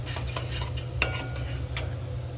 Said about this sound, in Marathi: आता इथं मी पहिले थोडा कांदा परतून घेतला आणि नंतर जो मसाला केला होता मी बनवलेला तो टाकलाय परतवायला